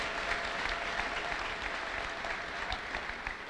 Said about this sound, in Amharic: ለጌታ ከፍ ያለ ልልታ ጭብጨባ ስጡ